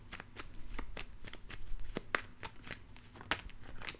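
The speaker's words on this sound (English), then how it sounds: "the Ace of Pentacles flies out of the deck" A deck of tarot cards being shuffled by hand, a quick run of crisp riffling snaps in a steady rhythm, close and fairly quiet, with no talk over it.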